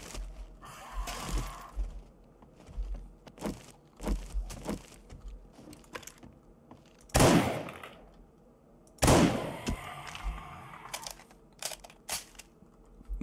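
Rifle shots in the survival game 7 Days to Die, a few loud sharp cracks standing out among scattered nearer impacts and crunching thuds, with no one talking.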